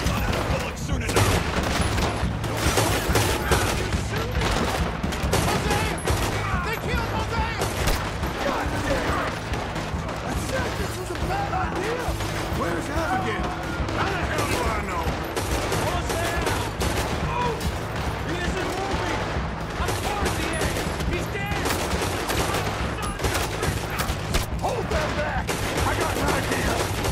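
Dense, continuous gunfire from a Red Dead Redemption bank-heist shootout: rapid overlapping rifle and pistol shots crack close and loud for the full stretch, with no real pause between volleys.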